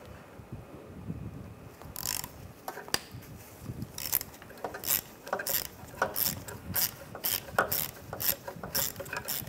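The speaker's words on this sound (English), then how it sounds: "We're gonna take this screw out right here. Use a T20 socket." A ratchet with a T20 socket removes a screw during radiator work on a 2011-2015 Chevrolet Cruze, giving rapid clicking bursts that repeat in quick runs, close and fairly quiet.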